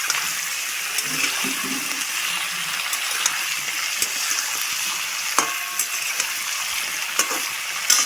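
Cut potato, pumpkin and eggplant sizzle in a hot oiled pan, a steady bright frying hiss running throughout with occasional soft pops and crackles, close and fairly loud.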